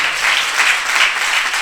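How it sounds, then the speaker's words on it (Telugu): An audience at a Christian gospel meeting in Bandipalem claps loudly and steadily, a dense, close wash of applause in gently pulsing waves with no voices. "గట్టిగా చప్పట్లు కొట్టండి"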